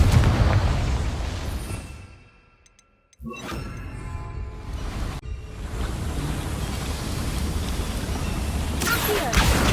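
The Confringo blasting spell goes off in the Hogwarts Legacy video game: a loud rumbling blast, a short near-silent lull, then a sudden booming impact followed by a sustained roaring rumble.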